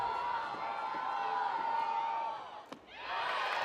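Tennessee and Mississippi State fans at a college softball game yell and whoop in a loud, sustained crowd roar. The noise dips briefly near the end, then surges back.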